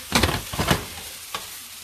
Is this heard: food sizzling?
yes